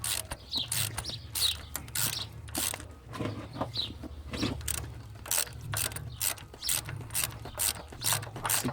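Ratchet with a 10mm socket working the mounting bolts of a power steering pump on a Ford Falcon XR6, steady repeated rapid clicking bursts close by, outdoors, with no talk.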